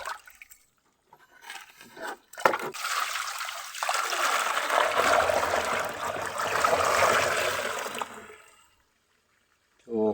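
Water poured from a bucket into a newly installed toilet bowl for testing, a steady rushing splash lasting several seconds before stopping abruptly, with a short clatter just before the pour.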